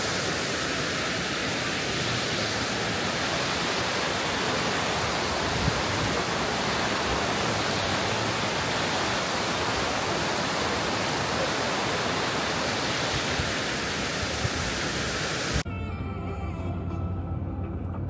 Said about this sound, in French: Je vais vous montrer un petit peu ce que donnent ces cascades.